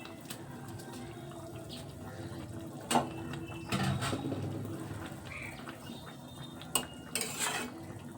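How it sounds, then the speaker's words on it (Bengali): Fish pieces slid into a simmering curry in a home kitchen, giving a couple of clattering utensil knocks and brief splashy bursts over a steady low bubbling, with no talk. "এবার আমি মাছগুলো দিয়ে দিচ্ছি।"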